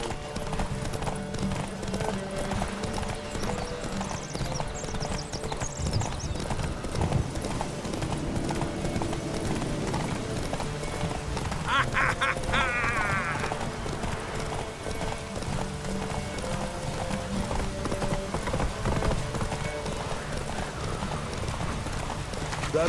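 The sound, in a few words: horses galloping in a race, video game The Witcher 3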